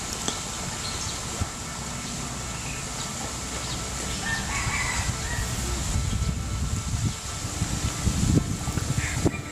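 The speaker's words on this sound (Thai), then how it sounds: "สิมีเสียงไก่ขันแทรกเข้ามาอยู่เรื่อยๆเนาะ" A rooster crows at a distance against steady outdoor background noise, with some faint clucking from nearby fowl.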